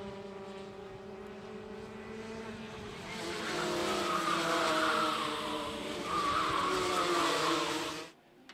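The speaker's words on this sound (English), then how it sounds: "Now, we're going to look at some high-performance go-karts. These go-karts are much faster than the go-karts Lauren and Brooke were driving." High-performance go-karts racing on a track, a continuous whining engine drone that rises in pitch and intensity midway, then cuts off near the end.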